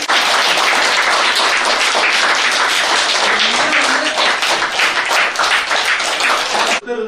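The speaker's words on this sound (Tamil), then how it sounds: "அந்த குழுவுக்கு நம்ம பள்ளியின் சார்பாக மாணவர்கள் சார்பாக கரகோஷம் எழுப்பி" Students at a school applaud a group that donated water bottles, a loud, dense burst of clapping filling the room and continuing steadily for several seconds before cutting off abruptly near the end.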